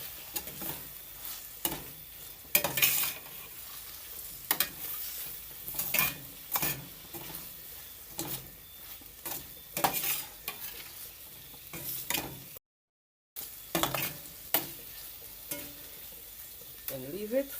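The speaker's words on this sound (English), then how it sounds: "Stir it up." A spoon stirs ackee and saltfish frying in a pot, giving repeated scraping strokes over a low sizzle, with brief pauses and a short silent gap partway through.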